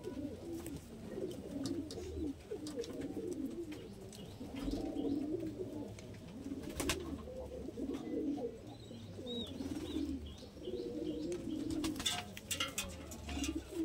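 Giribaj pigeons, an old-generation line, coo softly and repeatedly in a low, murmuring rhythm, close by and quiet, with a few faint chirps and rustles mixed in.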